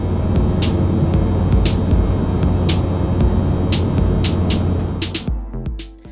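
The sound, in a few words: Air North airliner in flight, Kununurra to Darwin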